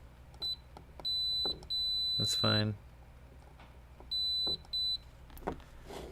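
A multimeter on continuity setting gives sharp, high electronic beeps, some short and some held, in two bursts close to the listener, while someone speaks briefly.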